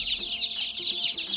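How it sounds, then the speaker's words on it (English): Young Cornish cross meat chicks, newly arrived on a farm, chirp in a continuous, dense chorus of high peeping, close and fairly loud with no talking. "These are meat chickens. Cornish cross."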